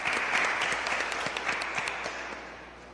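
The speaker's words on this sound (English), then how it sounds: "I think you should give yourselves a round of applause" A room of people at a town-square community meeting in Tobago applauds together, steady dense clapping that holds strong for most of the moment before easing slightly toward the end.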